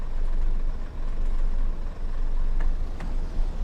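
Air brakes release on a Class 101 diesel multiple unit in the train simulator Train Sim World 2, a steady broad hiss over low engine rumble, with a couple of faint clicks near the end.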